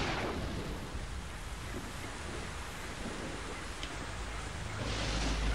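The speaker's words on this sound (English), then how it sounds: "now it's thunder." A steady broad rumble of thunder and rain fills a Metal Gear Solid 3 scene, constant and fairly loud throughout, with a brighter swell near the end and no voices.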